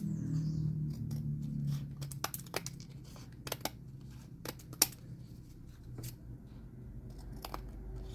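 Scissors cut through glued paper scraps, a series of short, crisp snips and crunches at an irregular pace, close and fairly quiet, with no voices.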